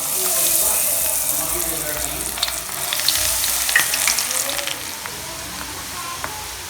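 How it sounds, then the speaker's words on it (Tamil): Corn kernels deep frying in hot oil make a steady, close sizzle and bubbling hiss, with a few sharper crackles and pops rising through the middle of the frying. "இப்போ நம்ம கார்னை பொரிச்சு எடுக்கலாம்."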